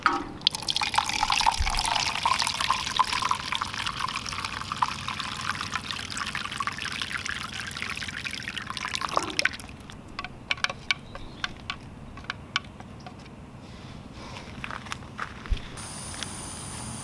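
Water is poured into a foam mix for aircrete, a steady close pour lasting about nine seconds before it stops and leaves a quieter stretch of faint drips and small handling noises.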